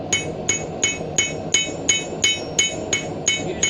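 Backyard blacksmith drawing out steel with the peen of a hammer on an anvil for a leaf end hook, ten evenly spaced ringing strikes at a brisk rhythm, close and without talk.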